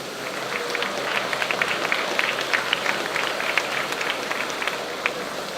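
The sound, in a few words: audience applause at airport opening ceremony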